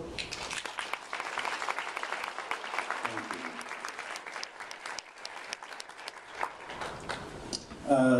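An audience of employees claps steadily to welcome a guest speaker at a talk, the dense applause continuing evenly throughout before fading toward the end.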